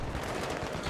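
Gunfire in the Battlefield 3 video game during a co-op match, a quick burst of loud, rapid shots crackling through dense game noise with no talk.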